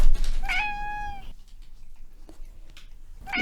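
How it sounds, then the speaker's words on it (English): A cat gives one clear, drawn-out meow up close, then a quieter stretch follows and another meow starts at the very end. "The cat does not seem to agree."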